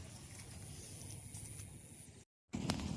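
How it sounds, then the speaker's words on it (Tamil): Rain falls on paddy fields during a cyclone, making a soft, steady patter with faint scattered drops. It stops for a split second, then resumes slightly louder. "மக்களே மழை பெஞ்சிட்டு தான் இருக்குது"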